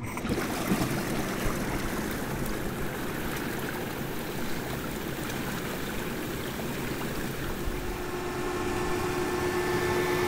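A hot tub jet pump running with the water churning: a steady, loud, broadband rush and gurgle of circulating water, continuous for about ten seconds with no voices.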